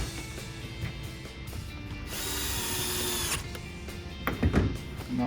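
Power drill driving screws back into the interior trim of a 2004 Honda S2000, a close whirring burst lasting about a second and a half, then clicks and handling knocks in a quiet room.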